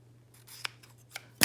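A few quick scissor snips cutting ribbon, three sharp cuts spaced apart with a louder final snip, close and clear in a quiet room.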